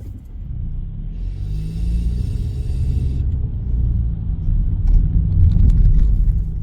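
Inside a car while driving, a steady low engine and road rumble with a brief high whine early on and faint clicks near the end.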